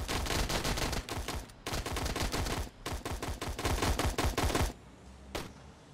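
Gunfire in the WarBox Sandbox game, fast automatic bursts of sharp, crisp shots in quick rhythmic runs with brief pauses, ending in a few isolated shots.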